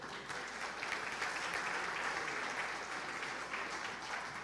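A church congregation applauds during a Portuguese-language sermon, a steady, dense wash of many hands clapping at once, loud and even from start to finish with no voices standing out.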